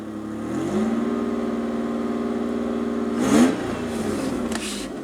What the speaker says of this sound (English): It sounds like it's revving faster, for sure.